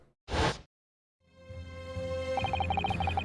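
A Venus special firecracker from the Great Ace Attorney game goes off as one sharp, loud burst, followed after a brief silence by sustained tonal game music with rhythmic chimes.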